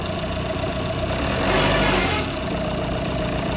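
A 2021 Tata Nexon XZA+ automatic diesel SUV with sunroof idles loudly close by, its engine note swelling briefly as it is revved once and then settling back to a steady diesel hum.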